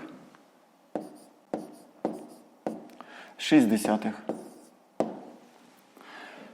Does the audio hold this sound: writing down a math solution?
yes